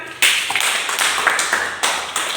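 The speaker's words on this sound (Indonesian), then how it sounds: "Mari kita berikan tepuk tangan" A classroom group claps in a short burst of loose, uneven hand claps with a few sharper accents, close by and moderately loud, lasting a couple of seconds.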